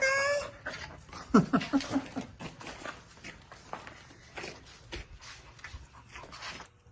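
A dog at an outdoor dog park gives a brief, high whimper near the start, followed by scattered scuffling, sniffing and movement noises. A voice is briefly heard.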